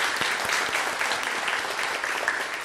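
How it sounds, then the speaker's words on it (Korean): A church congregation applauds the choir, a dense, steady wash of clapping hands that fills the room at a strong, even level from start to finish. "함께 우리 할렐루야 찬양대를 위해서 함께 더 크게 박수하겠습니다"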